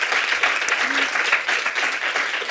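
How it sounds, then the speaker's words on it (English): An audience gives a big, steady round of applause for a hardworking event team, dense clapping filling the hall with a faint voice briefly underneath. "So I would like you to like make a big applause to all of them"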